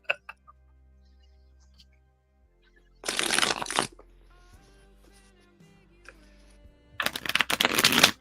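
Tarot cards are riffled in two quick, crisp bursts of shuffling, separated by quieter moments with faint tones and light handling sounds.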